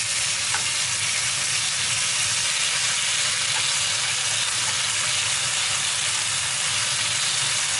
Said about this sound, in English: just cook your prawns or shrimp on both sides for about 2 to 3 minutes